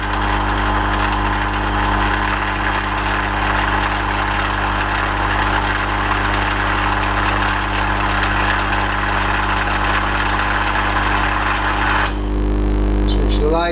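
Emco V10-P metal lathe taking a light cut under lead screw feed, a steady loud motor whine and hum with even mechanical drone throughout, changing near the end as the machine shifts.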